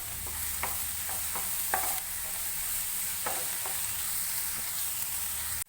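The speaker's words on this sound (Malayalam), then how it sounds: "2 മിനിറ്റ് ഇടവിട്ട് വീണ്ടും ഇളക്കിക്കൊണ്ടിരിക്കണം" Onions fry on a high flame with a constant hiss of hot oil. A spatula stirs and scrapes through them in several short strokes.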